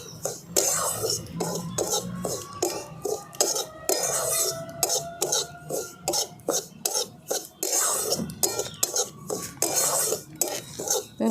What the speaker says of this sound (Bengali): হালকা করে একটুখানি নেড়ে নিচ্ছি যাতে সুজির কাঁচা গন্ধটা চলে যায়